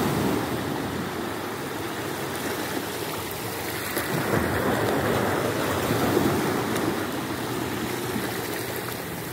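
Sea waves wash steadily around a person standing in the water, a continuous broadband surf with a swell of louder water midway, fairly close and with no talking.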